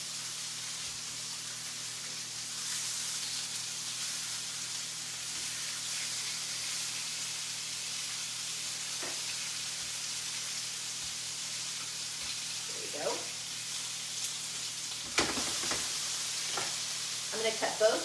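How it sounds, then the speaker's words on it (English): Salmon sizzling as it cooks, a steady close frying hiss that runs throughout with a low hum underneath, a few soft clinks and scrapes near the end, and no talking. "I think I might be ready to cook the salmon."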